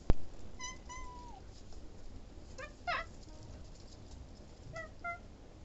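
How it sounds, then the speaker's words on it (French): A cat meows a few times at a distance from a balcony above, short separate calls spread across the clip over a soft background hiss. "Il y a mon chat sur le balcon du dessus."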